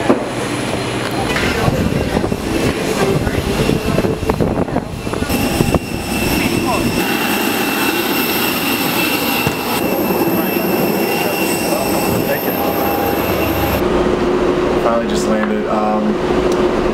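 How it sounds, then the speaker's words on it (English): Airport ambience dominated by a steady, loud roar of jet engines and a constant whine, while people talk in the background throughout. "At the airport now"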